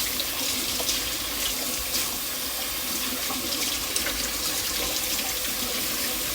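Tap water running steadily into a sink while fruit is washed for a fruit salad, a constant close hiss and splash with no pauses.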